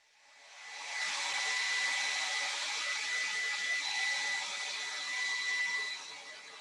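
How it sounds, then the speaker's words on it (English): A hair dryer blows on a paintbrush after it has been rinsed, starting with a rising whoosh and then holding a steady, close, high-pitched airy roar until it tails off slightly at the end, with no voices. "hit it with a blow dryer again"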